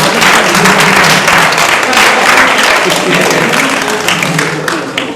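Dense, loud audience applause from a crowd at a French spelling competition show, steady and continuous for several seconds before easing slightly toward the end.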